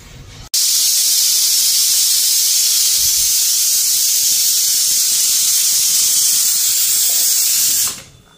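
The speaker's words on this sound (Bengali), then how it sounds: "ডাইলি থেকে সিটি পড়লো" A pressure cooker cooking dal lets out one long, loud, steady steam whistle up close, starting abruptly and cutting off after about seven seconds, with no talk over it.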